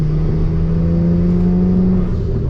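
A BMW N54 engine pulls at about 30% throttle, a loud, continuous drone with a steady mechanical whine that holds and slowly rises, close and alone with no voices.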